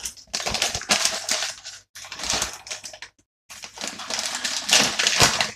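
A resealable zip-style plastic bag of Fox's chocolatey mini biscuits being handled and closed, three bursts of loud, close crinkling and rustling plastic separated by brief pauses.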